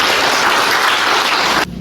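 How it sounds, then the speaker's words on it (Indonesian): Loud, dense applause from a group during a prenatal class session, a continuous wash of clapping heard close up that cuts off abruptly near the end. "tepuk tangan buat mereka"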